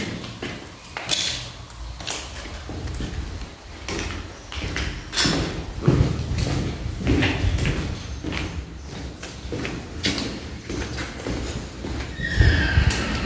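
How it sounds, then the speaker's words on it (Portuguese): A horse neighs and whinnies repeatedly at an abandoned prison, the Instituto Penal Mariante, with loud, close calls and scattered hoof thuds and knocks over about thirteen seconds, and no talk. "é o cavalo que tá fazendo aquele barulho,"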